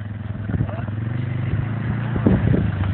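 A quad ATV engine revs under throttle with a steady low drone that swells and roughens toward the end, loud and close, while people talk over it.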